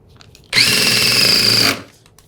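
A DeWalt 20V MAX XR impact driver runs in one continuous burst of just over a second, loud and close, a whining buzz with a hard start and quick stop, alone without speech.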